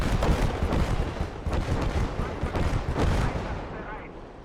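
Artillery fire in the WWII strategy game Gates of Hell: Ostfront, a dense continuous barrage of booming impacts and rumbling blasts, loud and unbroken for several seconds.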